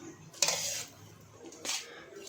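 Manchurian balls, vegetables and rice being stirred together in a pan, with a spoon scraping and clinking against the metal in two brief bursts over a low kitchen background.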